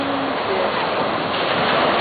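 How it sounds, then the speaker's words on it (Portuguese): Continuous roar of breaking sea waves on Copacabana beach, a dense hissing wash that stays loud and even throughout, with a voice faintly audible over it. "Olha o barulho do mar."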